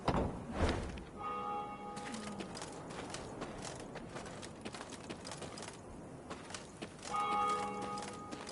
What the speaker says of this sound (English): they heard the bells of a temple to Mother situated at some distance